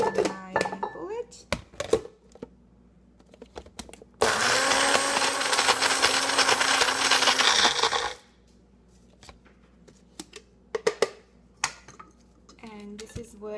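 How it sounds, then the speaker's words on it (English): A Magic Bullet blender pulses coconut in one loud burst of about four seconds of whirring motor, with clinks and taps of kitchen handling before and after and a voice talking at moments. "I'm gonna pulse it in my bullet"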